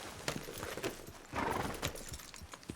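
Rapid clip-clop of horse hooves galloping in the video game Red Dead Redemption 2, steady and close, with a brief whinny-like rise in the middle.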